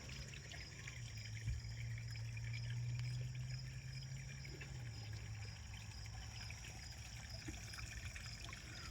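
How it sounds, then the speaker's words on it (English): Water steadily trickling into an aquaponics bog filter growing tomatoes, a continuous soft flowing wash that stays even throughout, faint and outdoors, with a low hum beneath. "The way the water is coming in my bog filter."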